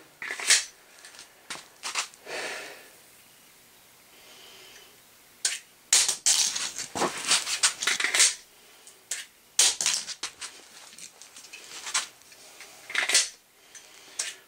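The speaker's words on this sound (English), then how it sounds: "No sign that I've dropped the loaded mag 25 times on the concrete." A loaded handgun magazine repeatedly dropped onto concrete, giving a series of sharp metallic clacks and rattles, some in quick clusters, with quiet gaps between drops.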